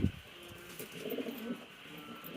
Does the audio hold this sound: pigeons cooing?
yes